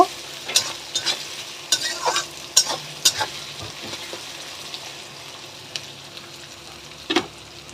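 Onions fried in a pan until browned, stirred with sharp scraping strokes over a soft steady sizzle, the utensil clicks coming in irregular bursts and thinning out toward the end.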